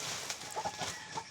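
A chicken clucks a few short times close by over a steady background hiss.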